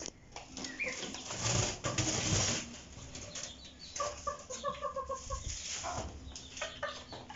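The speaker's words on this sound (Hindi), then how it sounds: "ये जो ब्लैक बैंटम का जो रूस्टर है मुर्गा" Chickens cluck and call around a black bantam rooster and its chicks in a pet setup, with repeated short clucks and some wing flapping, close by and fairly loud, with no talk.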